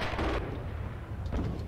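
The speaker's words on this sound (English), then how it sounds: "I'll be firing at him. Oh, I got him." Gunfire in the World War II shooter Red Orchestra 2, Battle for the Volga at Mamayev Kurgan: a heavy boom-like shot at the start, then a second burst about a second later, loud over rumbling battlefield noise.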